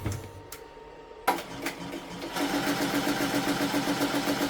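Embroidery machine running with a magnetic hoop, starting after a few faint clicks, then settling into a steady, rapid rhythmic stitching hum that grows slightly louder and continues without talk.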